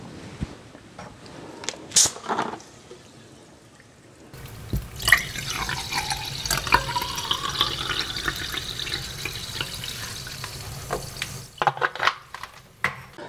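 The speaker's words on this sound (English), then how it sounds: "I'm gonna pour some bubbly water to the glass" Bubbly sparkling water pours into a glass at home, a steady fizzing, splashing stream lasting several seconds after a few brief clicks, with a soft clink near the end.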